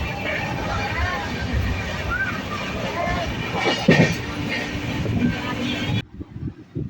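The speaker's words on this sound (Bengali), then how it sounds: "ট্রেন ছেড়ে দিয়েছে" A train running on the rails on a journey toward Puri, a steady rumbling roll with faint clatter under background chatter, ending in a brief drop as the sound cuts away.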